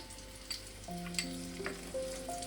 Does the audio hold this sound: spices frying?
yes